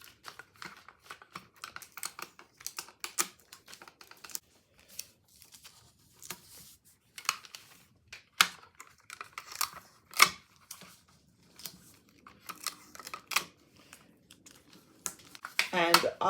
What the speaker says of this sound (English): You're going to tape this down.